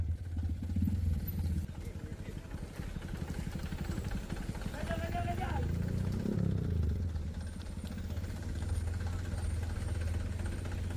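A truck engine strains along a muddy, dangerous road, a continuous low droning rumble with rattling clatter that swells slightly midway, steady and close throughout.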